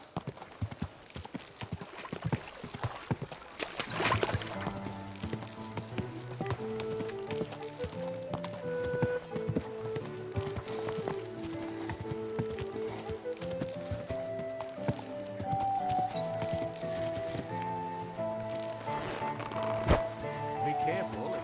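A horse walks in Kingdom Come: Deliverance II, its hooves clip-clopping in a steady rhythm over background music, with speech in parts.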